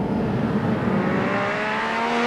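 A sports car on a test drive revs hard, its engine note climbing steadily in pitch as it accelerates, loud and close with no talking.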